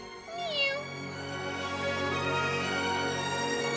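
A pet cat gives a single drawn-out meow near the start, its pitch sliding down, set against a steady tonal background hum that continues after the call fades.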